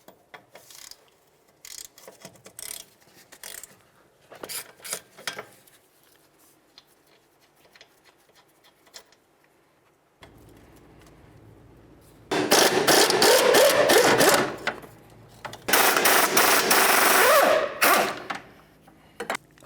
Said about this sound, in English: We'll use a 17mm socket to remove them all.